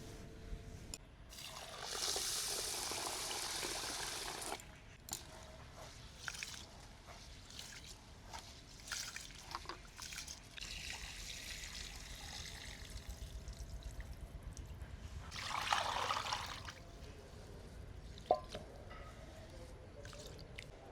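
Rice being washed by hand in water for milk-coconut chitoi pitha, with wet squishing, swirling and pouring splashes in bursts and drips between them, close by, with no one talking.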